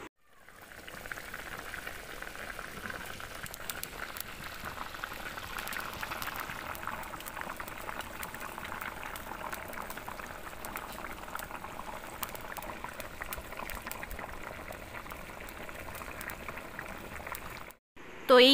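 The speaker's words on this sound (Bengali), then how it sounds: "ঝোল ফুটতে ফুটতে" Thin Bengali fish curry with drumstick vegetables bubbling in a pot after hot water is added, a steady soft simmering hiss and burble that runs on evenly, with no talk over it.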